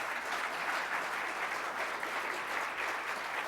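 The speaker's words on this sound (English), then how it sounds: "Let's give them another round of applause." Sustained applause from a seated audience at a Rotary Club of Tulsa meeting, a steady even wash of clapping for the jazz band that holds for the whole stretch without voices over it.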